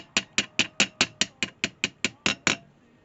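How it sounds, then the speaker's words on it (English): Twelve even, ringing hammer taps drive pins into a knife handle, struck at a brisk, steady rhythm with a short metallic ring after each blow, close and clear. "Hammer that in there nice and gently."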